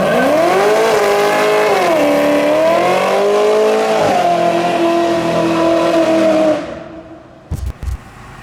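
A 650 hp supercharged LSA Chevy SS sedan's engine screams at high revs in a burnout with tire squeal for several seconds, then cuts off abruptly, followed by a few faint knocks.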